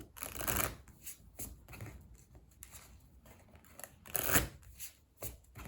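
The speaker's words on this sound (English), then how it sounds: "So I'm going to do just a few Lenormand cards to finish." Lenormand cards shuffled by hand in a quiet room, a run of soft papery riffles and slaps arriving in uneven bursts, the loudest near the start and toward the end.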